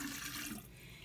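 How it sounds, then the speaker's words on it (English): Lemon juice pours into a gallon jug of blueberry basil lemonade base, a steady splashing stream that softens partway through. "So I'm gonna pour it in there, and then I'm gonna pour in the lemon juice."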